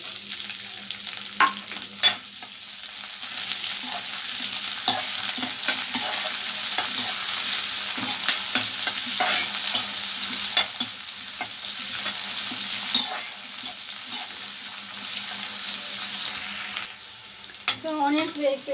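Green chillies, curry leaves and onion fry in oil in a pan for upma, a steady loud sizzle broken by stirring scrapes and clinks, with a brief burst of bubbling near the end.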